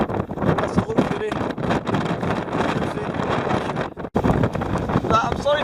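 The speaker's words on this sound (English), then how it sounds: "I'm sorry if it's windy" Strong wind gusting at a hilltop camp on Rushup Edge, roaring broadband buffeting across the microphone almost continuously, with a brief lull near the end before blasting back in, close and loud.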